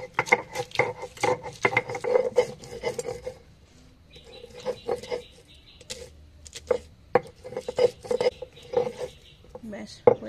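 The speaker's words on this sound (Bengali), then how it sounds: "অল্প যেহেতু পেস্ট করবো শিলেই বেটে নিচ্ছি।" Ginger and garlic ground on a sil-nora grinding stone: repeated rhythmic scraping and knocking strokes of stone on stone, close and moderately loud, with short pauses and a voice talking in between.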